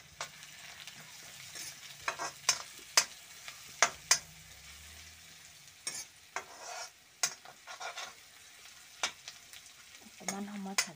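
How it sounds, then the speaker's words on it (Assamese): Ginger-garlic paste frying in a pan for an Assamese fish curry, with sharp spatula scrapes and stirring knocks repeating over a steady, moderately quiet sizzle, and no voices. "অকণমান সময় ভাজি ল'ব লাগিব না"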